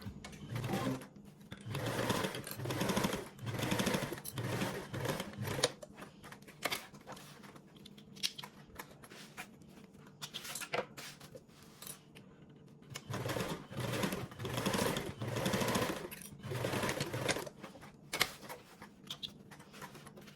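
Sewing machine basting two fabric panels together, its rapid rattling stitch running close in bursts separated by brief quieter pauses. No voices are heard.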